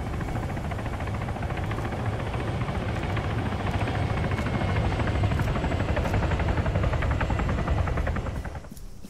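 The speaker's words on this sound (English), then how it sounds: "Helicopter, 400 meters," Steady rotor thump and engine whine of a helicopter in the military game Arma 3, loud and sustained for several seconds before fading slightly at the end, with no voices.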